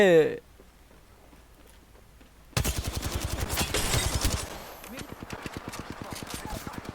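Rapid automatic gunfire from the video game Apex Legends bursts in loud, close rattling volleys, then continues as spaced shots while a player talks over it.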